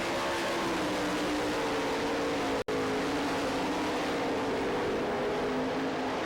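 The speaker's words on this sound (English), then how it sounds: "Doran Doty able to power away from Jimmy Carter down the back chute." Sprint cars racing on the dirt track at the Knoxville Nationals, a continuous loud engine roar from several cars down the back straightaway, briefly cut out for an instant midway.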